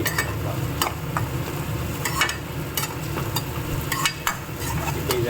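Onion sautéing in oil makes a dense, continuous sizzle up close, broken by frequent scraping strokes of a stirring utensil against the pan.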